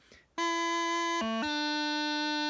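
A reedy, nasal bagpipe practice chanter holds a steady note, then briefly blips to a lower pitch before returning, a quick unwanted crossing noise between notes.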